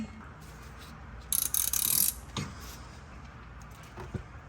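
Wrench loosening a bolt while working on a Porsche 911, giving a short burst of ratcheting clicks followed by a couple of quieter mechanical knocks, close and fairly clear against a quiet background.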